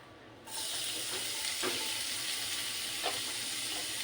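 Chopped garlic sizzles in hot oil for American chop suey with a steady, bright crackle that starts abruptly and continues evenly, with occasional stirring clinks.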